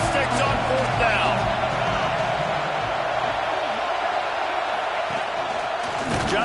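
A packed college football stadium crowd roars continuously before a 4th-down play in the Georgia-Alabama game, a dense, loud, unbroken wall of noise with scattered whoops and cheers, with a commentator's voice over it.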